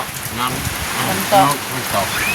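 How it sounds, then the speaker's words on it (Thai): Rain falling outdoors at a rural bathroom construction site makes a continuous dense hiss and patter, fairly loud and close, with people talking over it. "ฝนตก"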